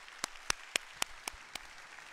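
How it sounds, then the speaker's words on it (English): A church congregation at a worship service marking 50 years claps in unison. Six crisp, evenly timed claps land about a quarter second apart, fairly faint and slightly distant, with no talking over them. "How about a clap offering to God for Kathy?"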